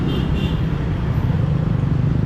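Busy city street traffic in Ho Chi Minh City with buses and motorbikes, a dense, continuous low engine rumble and road roar close by, without talk.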